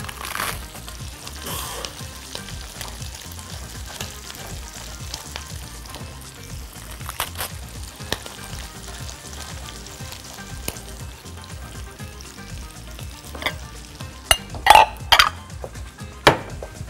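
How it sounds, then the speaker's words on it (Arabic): Onions and bacon fry in a pan, a continuous soft sizzle with occasional metallic clinks and scrapes of a utensil against the pan, growing busier toward the end. "البصل ابتدى ينزل الميه بتاعته، ابتدى يخش في السوا"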